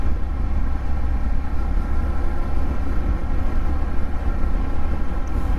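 Steady low rumble and broadband wind roar from a Yamaha MT-07 motorcycle riding at around 50–60 km/h, the quiet exhaust largely buried under continuous wind noise with no pauses.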